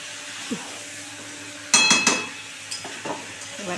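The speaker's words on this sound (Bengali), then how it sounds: "এবারে সুন্দর করে 2 মিনিট ধরে এই মশলাটাকে ভালো করে কষাতে হবে।" Masala for egg curry is stirred and sautéed in a pan, a soft sizzle broken by a loud burst of metallic scraping and clinking, then a few lighter stirs.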